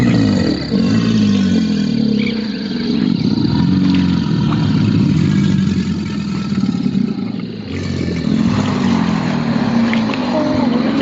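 An alligator's mating call, a deep, loud, rumbling bellow that rises and falls in long waves, close and alone.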